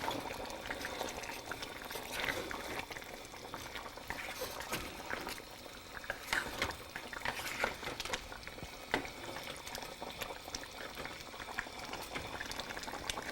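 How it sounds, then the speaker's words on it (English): Curry being stirred in a pot after garam masala and pepper powder are added, soft scraping and stirring with a gentle bubbling sizzle, close and low in level, steady and without speech. "And mix it well."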